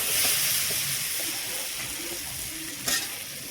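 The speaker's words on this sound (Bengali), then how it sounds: "মশলাগুলোর সাথে ভালো করে ভেজে নিব।" Spice paste ground with turmeric and salt sizzles as it fries in a pan for a rohu fish curry, a steady close hiss with soft scraping of the stir and one brief louder clatter.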